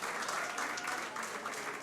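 Audience clapping for a dance group at a live performance, a dense, even patter of many hands filling the short stretch at moderate distance.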